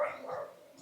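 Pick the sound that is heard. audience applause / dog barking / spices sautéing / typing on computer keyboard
dog barking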